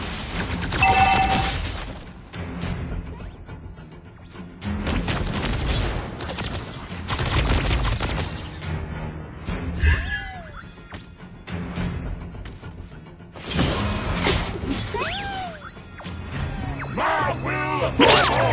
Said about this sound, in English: Your team is destroying the turret.